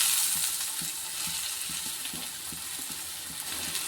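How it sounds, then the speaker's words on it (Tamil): Onions frying in hot oil for a dried fish curry give a steady, close sizzle with a crackling hiss, and faint rhythmic clicks of stirring run through it. "நம்ம எண்ணெயை காய வச்சுருக்கோம். இப்போ வெங்காயம் போட்டுக்கிடுவோம்."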